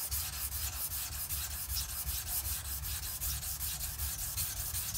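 A steel blade is rubbed back and forth on an extra coarse 220-grit sharpening stone, its gritty scraping strokes repeating in a steady, close, loud rhythm with no voices.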